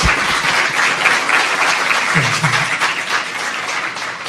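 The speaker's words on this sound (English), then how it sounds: "Let's give a round of applause once again to all our retirees." Applause for retirees at a school district board meeting, a continuous wash of clapping from a roomful of people, steady and fairly loud throughout, with a brief low voice surfacing midway.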